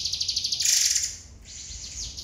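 A caged songbird such as a white-rumped shama sings bright chirps and quick whistled trills, close and clear over a low background hum.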